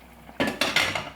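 A metal lid is lifted off a pot of Saravana Bhavan style white mixed vegetable kurma, giving a few close, sharp clanks and scrapes of metal on metal in quick succession.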